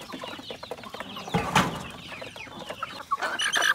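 Large chickens cluck and chatter continuously at close range, with overlapping calls and a louder squawk partway through.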